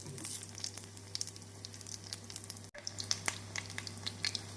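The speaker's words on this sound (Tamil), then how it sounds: "நாம் வடையை வேக வைக்கும்போது மீடியம் ஃப்ளேமிலே வைத்து வேக வைக்க வேண்டும்." Urad dal vadas made with ground rice deep frying in oil over a medium flame, a soft steady bubbling sizzle with light crackles, close but fairly quiet, with a brief dropout midway.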